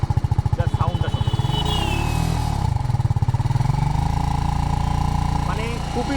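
A TVS Apache RR310 motorcycle engine sits close by, pulsing at idle, then revving up into a steady higher drone before dropping back to a throbbing idle, with a voice talking over it.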